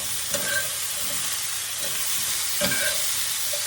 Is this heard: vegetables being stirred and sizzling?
yes